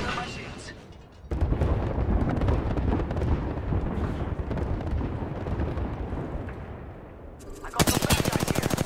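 Gunfire during a ranked Apex Legends match, dense bursts of automatic shots and explosions in a continuous heavy barrage, with players talking over the action.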